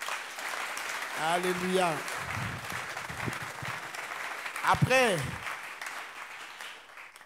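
Applause and cheering from a church congregation at an Easter service, a broad steady wash of clapping throughout, with a voice singing or calling out over it twice.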